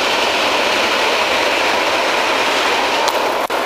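A long train of railway wagons passes a campsite near Protivín, Czech Republic, a steady broadband rumble filling the whole stretch with faint rail clicks near the end, close and loud, with no talk.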